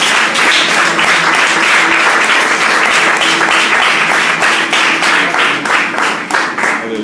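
A church congregation applauds steadily during a worship service, dense clapping from many hands filling the space at a constant loud level throughout.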